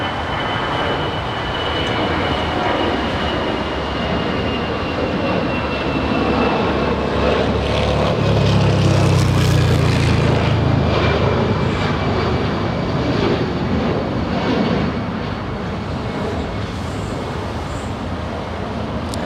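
Steady roar of a small plane taking off at Los Angeles International Airport, swelling broad and loud toward the middle and holding throughout, with no voices over it.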